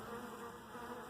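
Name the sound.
honey bees buzzing during a hive inspection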